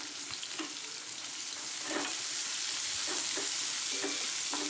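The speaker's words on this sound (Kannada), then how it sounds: "ಆನಿಯನ್ ಚೆನ್ನಾಗಿ ರೆಡ್ ಆಗೋ ತನಕ ಫ್ರೈ ಮಾಡಬೇಕು ನಾವು." Onions sizzle and fry in a pan for Iyengar-style bread masala, a steady crackling hiss with a few scattered stirring clicks, close and moderately loud, with no voices.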